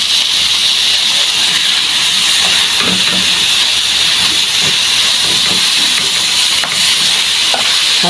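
Soy sauce sizzling in a hot pan while cooking adobong sitaw with meat, a loud steady hiss and crackle throughout with occasional stirring clatter.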